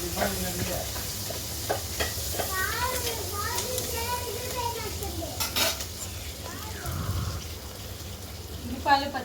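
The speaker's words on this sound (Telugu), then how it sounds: "ఉల్లిపాయలు పచ్చిమిర్చి వేయించుకుందాం." Onions and green chillies fry in a pan, a steady sizzle running under the whole stretch, with clinks of a stirring utensil and children's voices and talk in the background.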